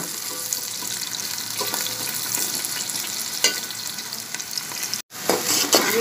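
Two green chillies sizzle steadily in a pan with chicken and bitter gourd, with stirring scrapes over the frying and a brief pause near the end before the sizzle resumes.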